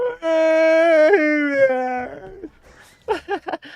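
A video game dog whimpers and howls in long, wavering, high-pitched cries, then yips in a few short bursts, loud and close with no talk over it.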